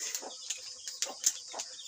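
A few soft, short clucks from a chicken, spaced irregularly, fairly faint against a steady high hiss.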